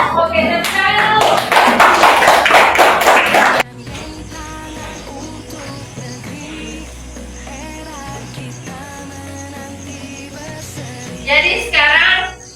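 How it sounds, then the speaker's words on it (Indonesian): Children in a classroom clap their hands together in a loud, fast burst lasting several seconds, then fall quiet under background noise, with a shorter second round of clapping near the end. "oke, tepuk tangan dulu"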